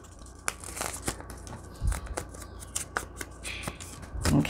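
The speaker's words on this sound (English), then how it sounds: "so let's fold that way. And I think I'm going to fold it back on itself" Paper crinkles and crackles as a plain envelope is folded back on itself to make a junk-journal notebook, with close, irregular rustles, creases and soft handling taps and no talking.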